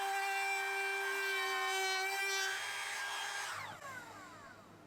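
Electric router cutting a leg joint in wood for a bedside table, a loud steady high whine that holds, then drops in pitch as the motor winds down near the end, alone with no talking.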